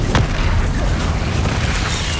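A Bombarda explosion spell from Hogwarts Legacy, heard as a loud, deep boom near the start that settles into a sustained low rumble.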